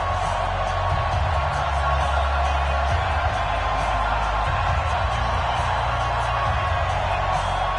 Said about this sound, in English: The enthusiasm of this Cincinnati crowd in full effect a moment ago as their Bengals took the field to the delight of this sold-out crowd.